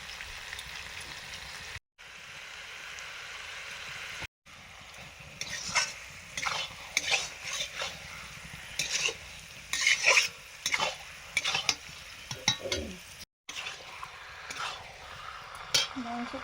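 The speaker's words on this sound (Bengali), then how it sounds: "মাংস কষানো চলছে" Meat being stir-fried with spices in a pan for a mutton curry, with repeated stirring scrapes and a steady sizzle close by, irregular bursts of clatter over a continuous frying hiss, with no talking.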